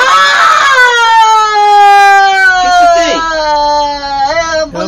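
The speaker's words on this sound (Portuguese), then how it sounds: "Ambulância, ambulância besta!" An ambulance siren gives a loud, close wail that slides steadily downward in pitch over several seconds, then rises again briefly at the close.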